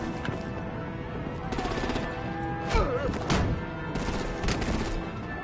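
Gunfire in the video game Batman: The Enemy Within comes in several sharp bursts with thumping impacts over a continuous game soundtrack, loud and close.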